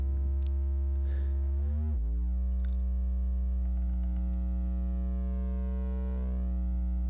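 Steady harmonic drone from a VCV Rack modular synth patch using feedback ring modulation with slight distortion, the pitch dropping once early on and then holding a buzzy, tonal hum with faint clicks.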